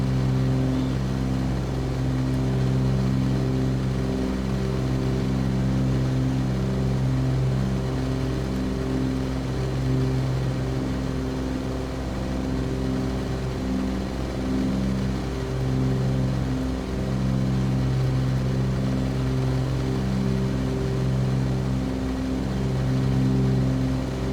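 Twin piston engines of a Cessna 414 running steadily with mixtures set rich, a loud, constant droning hum with layered harmonic tones from both engines, close and continuous without pause, no voices heard.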